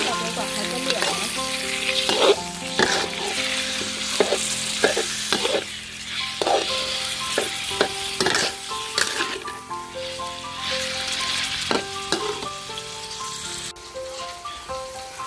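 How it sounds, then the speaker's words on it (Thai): Pork stir-fried with fish sauce in a pan, a steady bright sizzle broken by repeated sharp scrapes and clinks of a spatula against the metal, close and loud with no talking. "เราต้องค่อยๆผัดไปนะคะ ใจเย็นๆจนกว่าเขาจะเหลืองสวยเลยนะ"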